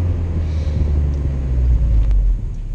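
A Mazda MX-5 NC 2.0 BBR 200 with a modified exhaust idles with a deep, steady exhaust rumble, loud and close, running continuously without revving.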